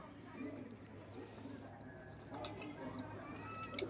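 Soft, repeated pigeon coos at a pigeon loft float over a steady low hum, with a few higher bird chirps scattered throughout.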